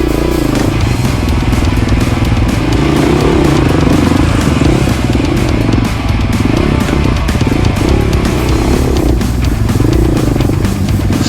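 GasGas four-stroke enduro motorcycle with a tuned ECU doing slow wheelies, its engine loud and close, rising and falling in repeated throttle swells over a low chugging idle, with clattering chain and mechanical rattle throughout.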